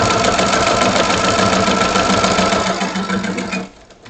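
A sewing machine stitches fabric along a seam in a fast, even mechanical whirr heard up close for over three seconds, then stops abruptly, with no voices over it.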